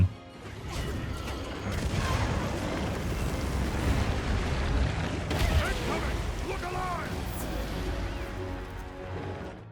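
The dragon Gogmazios in Monster Hunter sets off a booming explosive eruption with crashing, rumbling debris and mechanical clanks, loud and sustained, while a voice talks over it.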